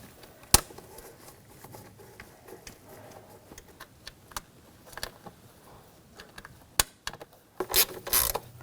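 A ratchet snugs down the valve cover bolts on a 2000-2006 BMW X5 with a 3.0L inline-six, giving faint, sparse clicking strokes with a few sharper metallic knocks and a louder rattle near the end.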